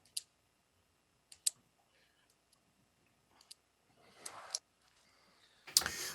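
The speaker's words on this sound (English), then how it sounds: "I'm hearing some pen clicking that I think is I'm getting sorry. picked up on the recording." Sharp, sparse pen clicks sound close to the microphone in an otherwise quiet room during a deposition, coming singly and in small groups, followed by a couple of brief rustling bursts.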